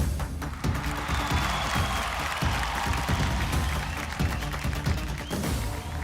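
A large crowd at an RRR film event in Mumbai applauds Alia Bhatt, dense sustained clapping mixed with crowd noise and cheering, loud and continuous throughout.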